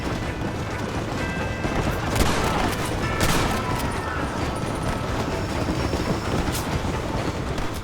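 A train in the video game Red Dead Redemption rumbles steadily throughout, its dense mechanical roar overlaid with sharp metallic bangs and scattered gunfire-like cracks, loud and continuous with no talk.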